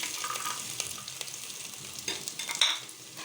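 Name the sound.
chopped garlic frying in soybean oil in a pan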